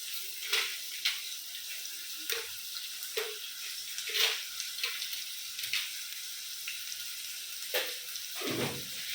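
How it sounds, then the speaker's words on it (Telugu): A mushroom and paneer curry base fries in a pan as a steady, moderate sizzle, punctuated by recurring stirring scrapes and soft splashes. "అయితే ఇది ఫ్రై అవుతుందమ్మా, కొంచెం ఇది టైం పడుతుంది."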